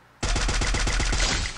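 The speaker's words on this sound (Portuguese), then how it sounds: "Vocês escutaram o tiro, mano?" A suppressed SCAR rifle in a video game fires a rapid burst of about eight or nine close, loud shots in a steady rhythm, then stops abruptly.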